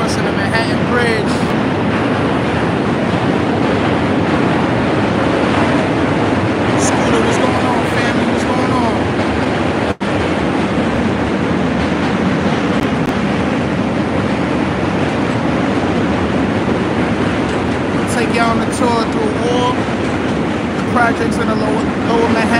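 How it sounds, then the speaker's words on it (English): A subway train crossing the Manhattan Bridge on the Lower East Side of New York, a loud continuous rumble and rattle of rail cars that goes on throughout, with faint clatter above it. "That's the train crossing the Manhattan Bridge."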